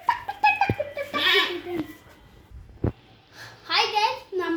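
A baby goat bleats loudly and close up, several wavering cries with a voice and giggling mixed in between.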